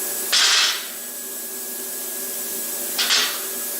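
A Simder SD-4050 Pro plasma cutter fires at half-inch steel plate in two short, harsh hissing bursts, separated by a few seconds of steady electrical hum, with no talk.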